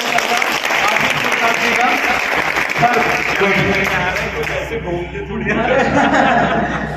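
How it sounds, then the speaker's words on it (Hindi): Officials at a farmers' union gathering applaud to welcome the CO, a dense, loud wash of clapping mixed with murmuring voices and a little laughter throughout. "सभी पदाधिकारी तालियों से स्वागत कर रहे हैं"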